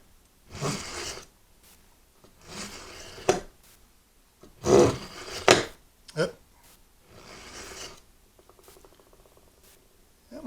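A knife blade is drawn through a Sharpal 6-in-1 sharpener in separate scraping strokes, about six of them with short pauses between, close up and fairly crisp.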